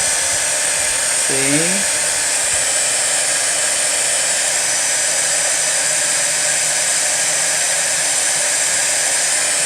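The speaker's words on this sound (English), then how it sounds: "especially if your heat gun has a metal edge on it" Heat gun blows hot air steadily onto gilded ribbon for card making, a constant loud whooshing hiss that fills the whole stretch, with a brief spoken word near the start.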